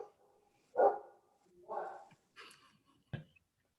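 A dog barks four or five times in the background during a community services district board meeting, short muffled yips spaced irregularly against near silence.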